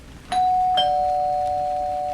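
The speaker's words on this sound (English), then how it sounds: "the doorbell rang again." A doorbell rings with a two-tone ding-dong, its second chime ringing out and sustaining cleanly for over a second, moderately loud against a quiet background.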